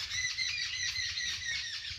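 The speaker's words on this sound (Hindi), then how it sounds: "पक्षियों के किलोल करने की आवाज़, प्रकृति के मनोरम्य दर्शन हो रहे हैं।" Birds chirp and twitter busily in the inner garden of the Sugriveshwar Mahadev temple at Rohida, a dense, continuous chorus of high calls at moderate distance with no talking.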